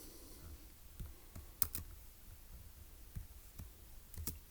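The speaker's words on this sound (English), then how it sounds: "So let's go ahead and type that up in our notes." Notes are typed on a computer keyboard in irregular bursts of soft, close key clicks with a few sharper taps, alone in a quiet room.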